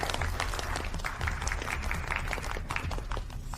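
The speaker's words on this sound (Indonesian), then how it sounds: "mari kita berikan tepuk tangan untuk grup Feng naik ke panggung" Applause from an audience as a group takes the stage, a continuous wash of clapping with some crowd murmur mixed in, moderately loud and even throughout.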